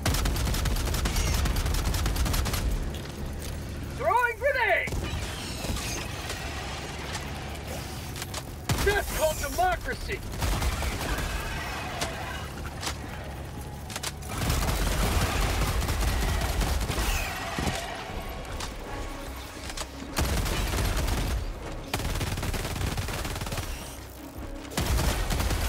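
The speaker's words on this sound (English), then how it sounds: "Machine pistol is so good." Machine pistol fire in Helldivers 2 during a solo extreme-difficulty mission, sustained rattling bursts mixed with heavy battle noise and distant blasts over nearly half a minute, with a voice talking at times.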